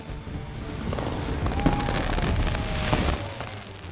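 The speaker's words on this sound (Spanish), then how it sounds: "Los cielos estallan cuando los cohetes de Pavlos cobran vida." Fireworks rockets burst over a Greek island harbor at night, a dense crackling barrage of pops and booms with a whistling streak, moderately distant and continuous.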